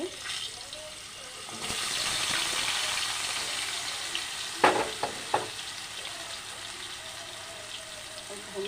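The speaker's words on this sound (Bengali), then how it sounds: "এ তেলেই আমি আলু ভেজে নেব" Potatoes frying in oil in a pan, a broad steady sizzle that swells and then holds, with a few sharp utensil clacks near the middle, close and fairly loud.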